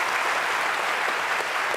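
An audience claps in a dense, steady burst of applause that fills the whole moment with no pauses, with no one speaking over it.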